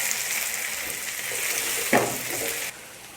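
Potato chunks fry in a pan for a dhaba-style aloo shimla mirch, giving a steady close sizzle with a brief stirring scrape midway, then a sudden drop to a quieter crackle.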